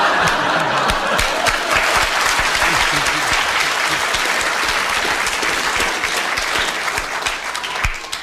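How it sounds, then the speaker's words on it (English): A studio audience at a radio panel game show applauds loudly and steadily for the whole stretch, a close, dense roar of many hands with sharp individual claps standing out. "You have received your round of applause"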